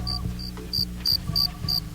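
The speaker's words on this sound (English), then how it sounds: "Did I just hear the crickets?" A cricket sound effect played on a radio talk show gives sharp, evenly spaced chirps repeating about twice a second, close and clear, with no talking over it.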